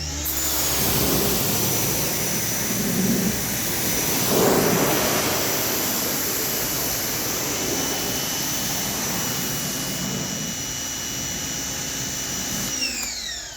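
A pressure washer blasts a steady, loud, broadband hiss while rinsing a car fender during touchless engine bay cleaning, the spray roar holding nearly constant with small surges as the nozzle moves.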